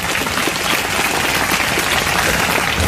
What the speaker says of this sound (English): There should be a round of applause